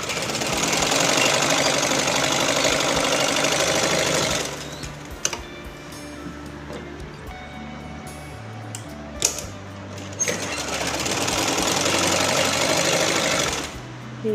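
A sewing machine runs in two long, steady bursts of double stitching on fabric, loud and close, with a quieter pause of handling and small clicks between them.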